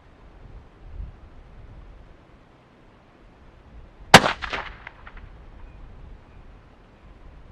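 A single sharp 22-250 rifle shot cracks out at an outdoor 100-yard range, loud and sudden, followed by a brief ringing echo that fades into quiet wind noise.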